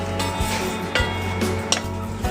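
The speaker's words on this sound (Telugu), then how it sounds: "ఇవన్నీ వేసుకొని మంచిగా కలుపుకుందాం. ముక్క మొత్తం అంతా కూడా ఉసిరికాయకి పట్టేలా కలుపుకుందాం." A spoon stirring crushed garlic into amla (gooseberry) pickle, a few soft scraping strokes and light clicks against the vessel over a steady background hum.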